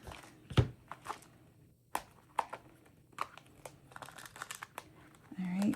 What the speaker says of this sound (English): you get your double-sided tape, cut yourself off a piece